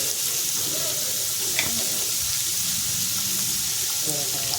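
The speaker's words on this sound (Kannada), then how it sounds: "ಅದು ಎಣ್ಣೆಲೇ ಫ್ರೈ ಆಗಿಬಿಡುತ್ತೆ" Vegetables frying in oil for shavige uppittu, stirred in the pan: a soft continuous sizzle with faint scraping stirs and small clinks, fairly quiet and steady over a few seconds.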